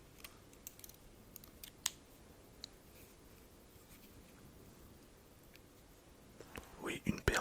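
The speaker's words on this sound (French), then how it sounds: "Oui, une paire de ciseaux." A pair of scissors is handled quietly in an ASMR setting, with faint scraping and soft clicks that build into louder close handling noises at the end, along with whispering.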